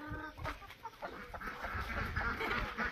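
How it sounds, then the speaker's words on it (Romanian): Several chickens cluck and murmur softly nearby, a scattered, quiet chatter of short calls. "Alte câteva găini pe aici."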